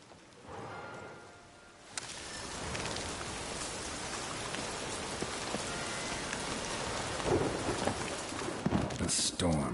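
A Witcher 3 storm in game audio: dense, steady rain hiss fills the scene after a quieter opening, with a low rumble of thunder running beneath it and a few sharper crackles toward the end.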